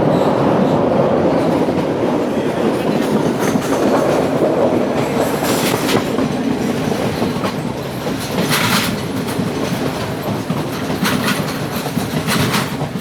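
A train near Colombo rolls over a bridge above a boat-lined lagoon, heard from on board as a loud, continuous rumble with rhythmic clickety-clack of wheels on the rails throughout.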